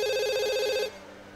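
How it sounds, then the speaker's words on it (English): A telephone rings in The Sims 2, a steady electronic trill repeating loud and close for under a second before cutting off abruptly into quiet game ambience. "Yeah, phone's ringing."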